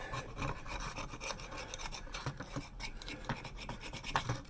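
A scraper rasps old gasket material off the base of a heating element, giving steady, gritty back-and-forth scraping strokes at close range with no voices.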